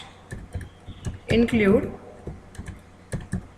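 Code typed on a computer keyboard, with quiet, irregular clicks scattered through the clip and someone speaking over part of it.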